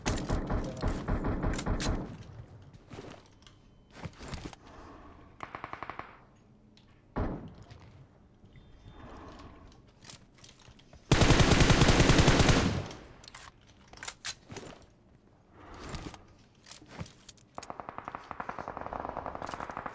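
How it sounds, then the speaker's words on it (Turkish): Automatic gunfire and scattered shots in a PUBG Mobile firefight, with short bursts early, isolated loud thumps, and a long, very loud sustained burst in the middle, followed by further intermittent fire. "Oğlum acayip çatışma oluyor Hamza"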